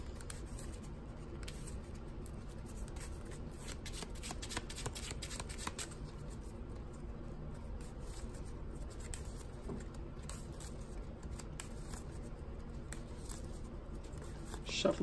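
A trading card deck is shuffled by hand during a Six Samurai combo demonstration, giving a soft, continuous riffling and sliding of cards that stays faint and steady throughout with no talking.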